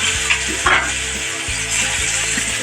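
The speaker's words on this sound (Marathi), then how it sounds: "कांदा परतून घेऊया" Onion sizzles steadily in hot oil with cumin and mustard seeds in a pan, accompanied by occasional scraping stirs and light clinks of a utensil against the pan, close up with no voices.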